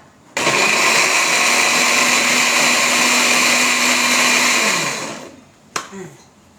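A kitchen blender whirs steadily at high speed for about five seconds while processing almond mushroom soup, then winds down and stops, followed by a brief clunk.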